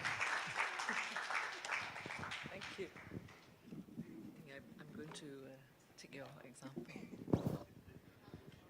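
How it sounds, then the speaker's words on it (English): An audience at a partnership event on inclusion claps to welcome a speaker. The applause is fairly faint and fades after a few seconds into quiet murmuring and speech. "Ladies and gentlemen, please give a big round of applause to welcome Dr."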